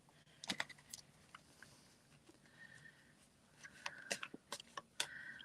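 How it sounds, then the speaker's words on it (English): Deck of reading cards shuffled during a psychic medium's reading: quiet, irregular taps and flicks, with a small flurry near the start and more near the end, and no talking. "Just shuffling them again."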